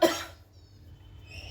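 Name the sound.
person coughing from green chilli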